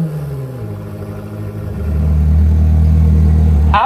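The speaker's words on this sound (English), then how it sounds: "Engine start stop button right here." Koenigsegg Jesko engine starting up: a low idle rumble steps up into a loud, deep, steady drone as the engine catches and settles, close and dominant, with a brief bright sound right at the end.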